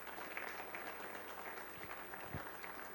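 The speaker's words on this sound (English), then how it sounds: "A round of applause for everybody to put this together." Applause for event staff at an author talk with retired Army General David Petraeus, a faint, distant, steady wash of clapping from the audience.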